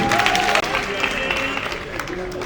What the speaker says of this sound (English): can you rise up and clap for Surveyor Mrs. Anobili Ogosina CEO